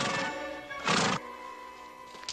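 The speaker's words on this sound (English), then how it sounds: "Sam, I raised that horse from just a colt." A horse whinnies loudly and close in a Western TV drama scene, one strong neigh between quieter stretches, with a faint hoof clip-clop and no talk.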